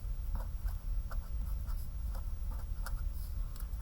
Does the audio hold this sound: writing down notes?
yes